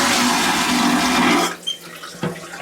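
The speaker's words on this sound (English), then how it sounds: "it's a good suck out of the toilet" A vacuum toilet in a Norwegian Star oceanview cruise cabin bathroom flushes with a loud, close rushing whoosh that cuts off abruptly, followed by a couple of faint gurgles and clicks.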